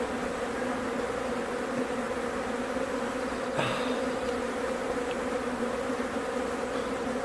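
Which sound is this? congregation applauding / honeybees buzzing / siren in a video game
honeybees buzzing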